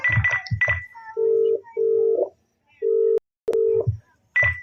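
A telephone call being dialed and going unanswered: short steady electronic ringback tones in an uneven on-off pattern, mixed with brief beeps and a few faint clicks.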